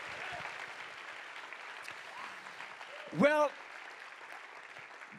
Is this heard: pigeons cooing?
no